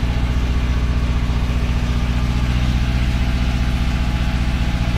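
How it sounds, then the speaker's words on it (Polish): A Polonez car engine idles steadily while warming up, a low continuous rumble with a regular throbbing pulse, close by and fairly loud, with no voices. "Poczekamy, aż się silnik trochę nagrzeje"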